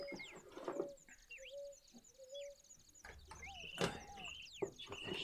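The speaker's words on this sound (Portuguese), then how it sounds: "Tá saindo o som da passarinhada aí, gente?" A mix of birds calls at a moderate distance: sharp chirps, whistled notes and sweeping tweets in irregular bursts, with a few louder calls near the end.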